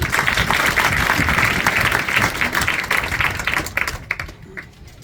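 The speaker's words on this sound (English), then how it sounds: "Please let us applaud our formators." A large audience claps loudly at a seminary graduation ceremony, honoring the formators with dense, sustained applause that thins out over the last second.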